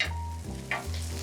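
Lavash fries in a hot pan, a steady close sizzle with a faint hum underneath and no voices.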